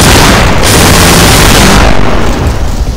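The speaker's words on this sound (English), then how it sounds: "it's a huge amount of rapid fire coming out of it" A modded gun in Garry's Mod unloads a loud, dense stream of rapid fire, its booming shots blurring into one continuous roar that eases only slightly toward the end.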